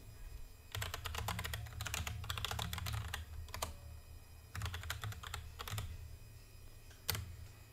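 Computer keyboard keys clacking in quick bursts while a Discord.js install command is typed, several rapid runs of keystrokes separated by short pauses, close and clear with no talking.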